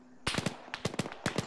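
Gunfire during the Op Neptune Spear operation: three quick bursts of sharp, close reports, each holding a few rapid shots, with quiet gaps between them.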